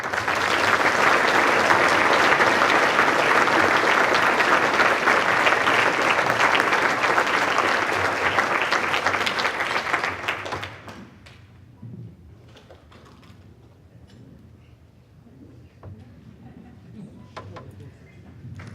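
A round of applause from the audience at a planetarium association awards ceremony, steady dense clapping that fills the room for about ten seconds, then cuts off to quiet room noise with a few faint knocks and shuffles.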